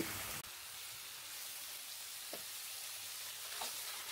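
Fish belly pieces fry in a pan with a steady, bright sizzle up close, broken by a few faint pops and a brief stir.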